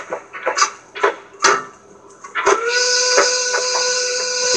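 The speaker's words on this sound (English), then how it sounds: "We should hear a whistle." A steam whistle in the video game Human Fall Flat starts after a string of clanks and thumps, then holds a loud, sustained tone to the end.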